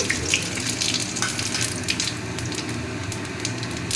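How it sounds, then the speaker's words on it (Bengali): Whole spices tempering in plenty of hot oil for a chital fish curry give a steady, close, dense sizzle with crackly bursts, running without pause and with no voices. "এই মশলাটা ফোড়ন দিয়ে দিচ্ছি"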